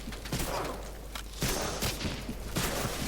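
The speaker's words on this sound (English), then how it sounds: "I'm just firing randomly into open area because I'm in smoke" Gunfire in the WWII shooter Medal of Honor: Allied Assault Breakthrough multiplayer, with several bursts of shots firing into an open area amid smoke, fairly loud and repeated at uneven intervals over a steady background.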